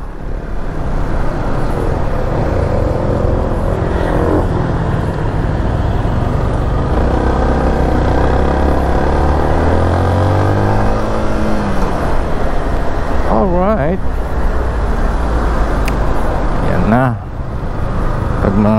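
Steady road traffic flows continuously, with cars and motorcycles droning and passing close by, engines revving here and there, while someone talks over the traffic noise throughout.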